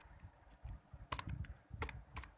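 Keystrokes on a computer keyboard while entering code for an invoice and inventory form, arriving in a few quick bursts of close clicks with brief pauses between them.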